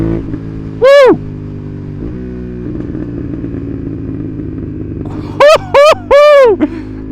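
A Honda CB750 Hornet parallel-twin motorcycle accelerates hard in short bursts, its engine note sweeping sharply upward through the gears, loud and close over a steady idle and road rumble, with a rider's voice audible between pulls.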